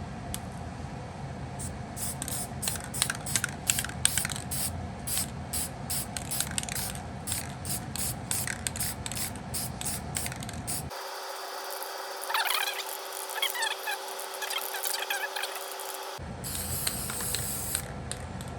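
Aerosol can of cheap Rust-Oleum gloss paint spraying 1968 Chevy Nova engine parts, a steady close hiss in repeated short bursts with rattly pulses, then a brief change in tone before spraying resumes.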